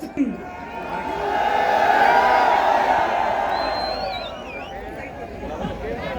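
A large crowd at a political election rally in Bhimber, Azad Kashmir, cheers and applauds, a swelling roar with whistles and a raised voice riding above the mass of sound, easing off toward the end.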